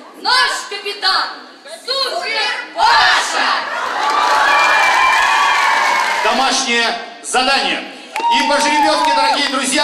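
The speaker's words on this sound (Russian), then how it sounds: "под ваши аплодисменты команда КВН «Душки-пузырьки» и из города Барнаула" A theater audience applauds and cheers for the KVN team Dushki-Puzyrki from Barnaul during a greeting contest. The loud crowd swell peaks in the middle, with an announcer's voice at the start and end.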